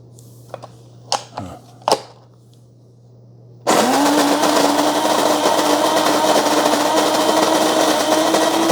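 A Mr. Coffee Cafe Grind 18-cup automatic burr grinder set to medium for drip coffee is preceded by a few faint clicks, then starts grinding with a sudden, steady, moderately loud whirring drone that runs to the end.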